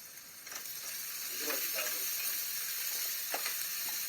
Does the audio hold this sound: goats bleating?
no